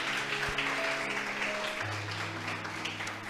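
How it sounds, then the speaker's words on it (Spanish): Congregation in a church applauding together, a dense, steady clatter of many hands that stays even and slowly eases off, with soft organ-like tones sustained underneath. "¿Cuántos alaban a Dios y le dan un aplauso grande?"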